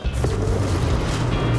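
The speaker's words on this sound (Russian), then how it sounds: "Запустить утилизирующую гранату." A recycler grenade from the sci-fi game Prey launches and bursts, a loud low boom with a rumbling swirl that sustains steadily for the whole moment.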